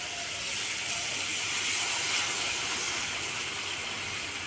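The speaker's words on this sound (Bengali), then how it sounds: "এবার আমি ফাইনালি জল দিয়ে দিচ্ছি।" Water poured into a pan of potatoes cooking for a Bengali dish gives a loud, steady hiss and sizzle that continues unbroken up close.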